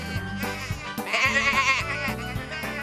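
A cartoon sheep bleats once, a wavering cry rising over a bouncy musical backing, fairly close and clear.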